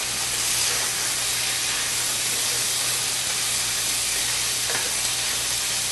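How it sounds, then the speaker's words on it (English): Bacon sizzles in a black cast-iron skillet, a loud, steady, unbroken hiss and crackle with no voices. "I'm going to check my bacon. I'm going to turn it down just a hair."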